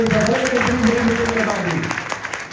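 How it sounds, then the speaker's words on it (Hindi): Crowd at a political rally claps loudly and continuously, a thick wash of applause with shouting voices layered over it. "मैं तो कहता हूं इसके लिए जोरदार तालियां बजाइए"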